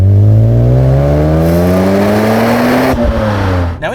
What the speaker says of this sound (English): you've got this wonderful naturally aspirated straight six up the front, the venerable S54